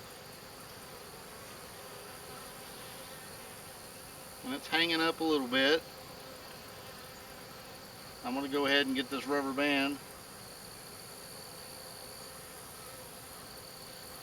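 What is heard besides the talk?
honey bees buzzing around a hive frame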